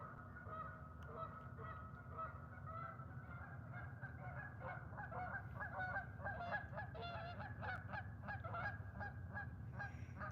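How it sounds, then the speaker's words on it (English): A steady chorus of honking geese fills the air at a lake, many birds calling at once over a constant low rumble, with no one speaking. "The birds are noisy."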